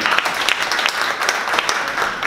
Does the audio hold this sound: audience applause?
yes